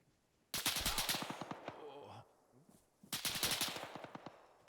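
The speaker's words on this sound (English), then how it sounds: "There's my machine gun up there." Two long bursts of rapid automatic machine gun fire in the military shooter Arma 3, loud and close, with a short quieter gap between volleys.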